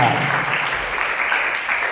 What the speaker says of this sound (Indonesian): Tepuk tangan untuk Tuhan Yesus yang luar biasa.